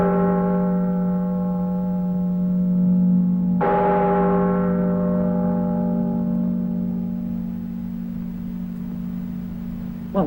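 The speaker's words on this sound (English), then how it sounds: "that must be the bell of the church of San Stefan" A single church bell tolls at midnight, a deep sustained ring with long harmonic decay, followed by a second heavy strike about midway that rings on and fades out slowly, loud and close.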